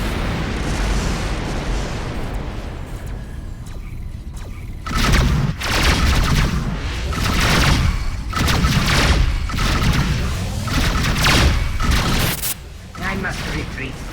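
Incoming missiles blast in rapid succession during space combat in a video game, a dense run of loud booming explosions that follows a quieter stretch, with some game voice audible in between.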